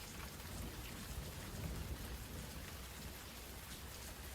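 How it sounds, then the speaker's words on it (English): Steady rainfall, a dense even hiss of drops with a low rumbling undertone like a distant storm, constant and fairly faint with no voices. "It begins to rain."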